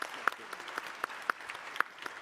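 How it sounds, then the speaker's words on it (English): A woman clapping at a 2021 HOPE Global Forums event, a few close, rhythmic claps at an even pace, with quieter applause and chatter behind them. "Look at my mother clapping."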